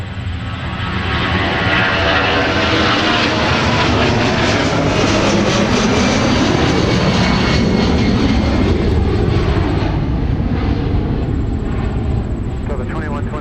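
A jet airliner takes off from runway 30 left at Minneapolis–Saint Paul airport, its loud, broad engine roar building and holding steady for the whole stretch, with faint radio chatter from air traffic control underneath.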